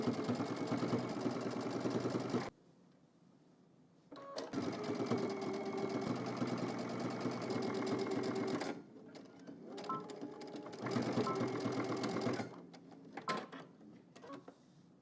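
A domestic sewing machine stitches a pocket onto fabric for a pair of casual shorts, running in long steady whirring bursts separated by brief pauses, close and loud, with no voices.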